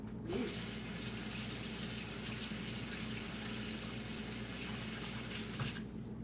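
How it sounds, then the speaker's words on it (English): Hands rinsed under a running kitchen tap while pumpkin spice pancakes are being made; a steady, fairly loud hiss of flowing water lasts about five seconds and cuts off near the end, with no talking. "Let me wash my hands off."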